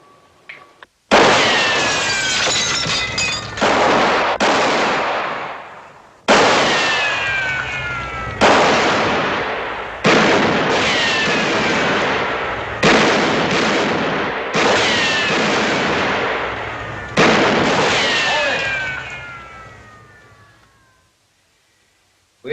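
Gunfire in a western shootout: a series of loud, close gunshots, each a sharp crack followed by a long ringing echo with ricochet whines, spaced a few seconds apart before fading into silence.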